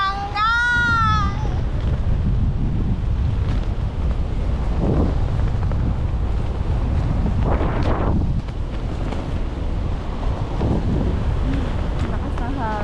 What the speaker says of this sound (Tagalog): Lakas na hangin.